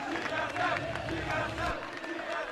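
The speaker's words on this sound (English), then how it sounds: "And there you hear the crowd chanting it out for TSM" A large crowd at an esports match at MLG Providence 2011 chanting and cheering for TSM, a dense roar of many voices filling the space, with a commentator's voice faintly mixed in.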